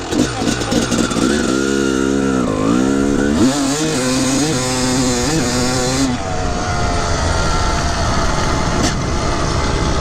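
A 1997 Honda CR250R two-stroke 250 motocross bike revs loudly, its buzzing engine pitch climbing and dropping as it rides past nearby, then fading into a lower drone.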